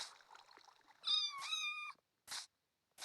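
A cat meows in the game Minecraft, two drawn-out clear meows followed by a couple of short bursts, heard alone against near silence.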